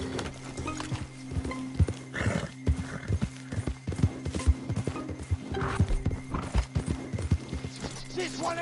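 A horse trots close by with clear, rhythmic hoof clip-clops, and a whinny and snorting breaths rise between the steps over a low background hum.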